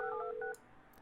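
A short run of telephone tones sounds in the building game Project Highrise as a phone line is installed: a quick series of clear, close beeps lasting about half a second, followed by a faint click.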